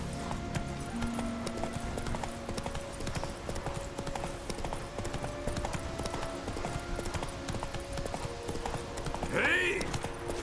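A horse's hooves clip-clop steadily at a brisk pace in The Witcher 3, a constant rhythmic thudding under game sounds and music. A short call or whinny-like sound rises near the end.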